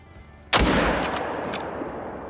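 A single sharp rifle shot in the hunting game Call of the Wild cracks loud and close, then fades in a long echoing tail across open terrain.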